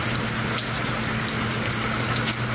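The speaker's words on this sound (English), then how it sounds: "And it's been raining hard here." Heavy rain falling outdoors, a steady dense hiss of water with a constant rushing quality and no voices.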